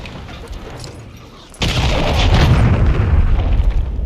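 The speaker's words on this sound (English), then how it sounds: "Launch your cruise missile." A cruise missile strike in Modern Warfare 3 hits with a sudden loud boom after a quieter stretch, then a sustained roaring rumble of explosion and debris that stays heavy to the end.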